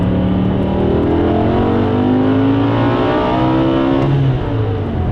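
A manual-gearbox 2008 BMW E60 M5 V10 pulls hard under acceleration, its engine note rising steadily and loud from the cabin for about four seconds before easing off slightly.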